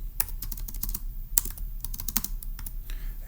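A computer keyboard clacks with steady, rapid key presses while a puzzle answer is entered, close and clear with no voices.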